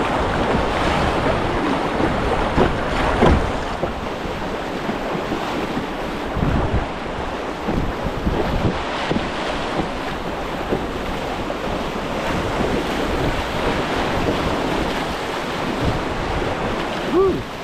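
Rushing whitewater of wave trains on the Nantahala River, heard from a paddler's position as a continuous, loud churning roar mixed with wind buffeting the microphone and occasional splashes.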